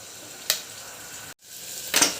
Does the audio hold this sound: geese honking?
no